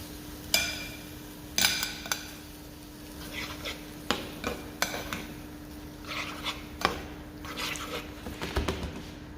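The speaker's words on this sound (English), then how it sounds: "this is starting to come up to the simmer now nicely" Sauce coming up to a simmer in a pan, with soft bubbling and sizzle under intermittent clinks and scrapes of a utensil against the pan, close and fairly quiet, no voices.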